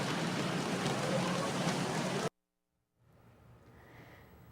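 Rain falling on a wet city street, a dense steady hiss of drops that cuts off abruptly midway, followed by a brief silence and then a fainter wash of street noise.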